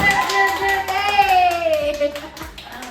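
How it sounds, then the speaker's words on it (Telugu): Hands clapping in praise during a kids' sorting game, a few light, evenly spaced claps heard under a sustained voice. "claps claps claps claps"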